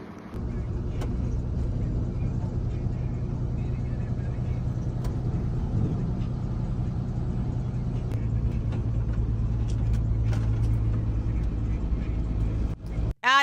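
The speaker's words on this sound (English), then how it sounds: "That's me driving through Maple Heights" A car drives along a road through Maple Heights, its steady low engine and tyre rumble loud and continuous throughout, ending with an abrupt cut.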